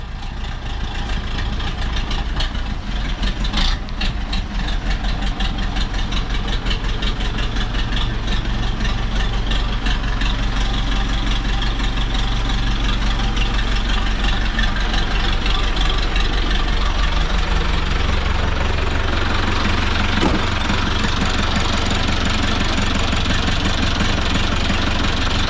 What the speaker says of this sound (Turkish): Traktöre mazot dolduruyorum.